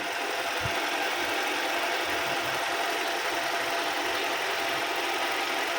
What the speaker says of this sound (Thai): เดี๋ยวฟังเสียงเครื่องกันนะครับ